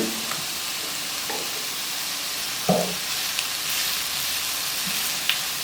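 Capsicum and onion sautéing in a pan for chicken macaroni, a soft continuous sizzle with occasional light scrapes and clicks of a spoon, close and fairly quiet.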